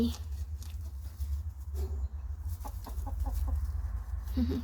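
Backyard chickens cluck in short repeated bursts over a low, rumbling background hum, fairly close by.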